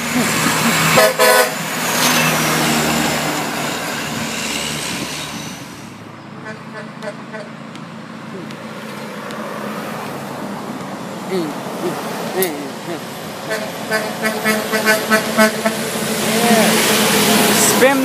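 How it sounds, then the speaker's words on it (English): Car horn honking repeatedly, several short toots over steady road and traffic noise, with people talking in between. "Spam the horn like crazy."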